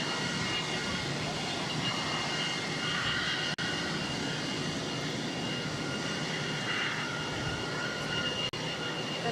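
Airliner jet engines run on the ramp at Boston Logan airport, a loud, steady close roar and whine that fills the whole stretch.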